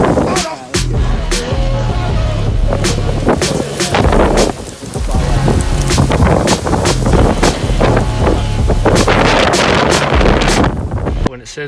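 Strong gusty wind in a Las Vegas windstorm roars and buffets the microphone almost without pause, with loud bursts and brief lulls while a person's voice is faintly heard beneath.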